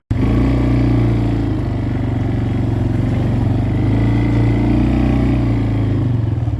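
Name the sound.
Kawasaki Bayou four-wheeler ATV driving on trails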